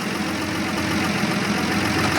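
A tractor drone steadily while disc harrowing a large field after ploughing, a continuous mid-to-low engine rumble with no pauses.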